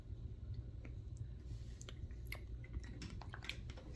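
Close, soft chewing of a freshly picked garden strawberry, moist squishy bites repeating irregularly over a low steady background rumble, with no talking.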